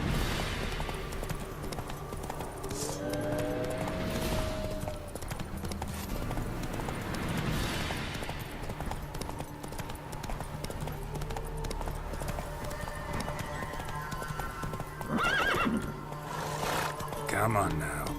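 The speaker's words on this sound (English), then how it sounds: "Whoa there, Roach." Horse hooves clip-clop steadily at a gallop in The Witcher 3 video game, a close, continuous rhythm running the whole stretch with a voice talking over it and a possible brief whinny.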